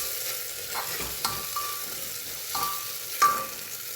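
Ginger garlic paste sautés in a pan for Kerala chicken kurma, giving a soft, continuous sizzle broken by a few sharp metallic scrapes and clinks of a spoon against the pan, with no talking.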